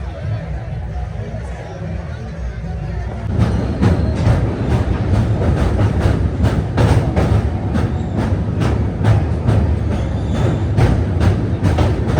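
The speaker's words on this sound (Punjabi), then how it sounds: "ਆਪਣੀ ਟ੍ਰੇਨ ਆ ਜਿਹੜੀ ਪਹੁੰਚ ਗਈ ਆ" A passenger train pulls into a station with a steady rumble and regular clickety-clack of wheels over rail joints, loud and close, with crowd murmur underneath.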